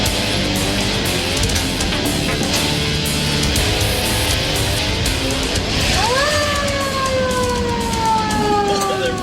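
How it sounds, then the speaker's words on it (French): A big red fire truck's siren winds up and wails loudly over a rumbling engine, starting about two-thirds through and sweeping in rising and falling tones close by. "Après avoir fait retentir la sirène, Jesse rentre le gros camion rouge"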